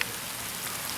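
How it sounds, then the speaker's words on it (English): Steady rain falls outdoors in a yard where a tree was recently cut down, a soft, even hiss of drops spattering on surfaces that holds constant throughout with no voices. "It's raining."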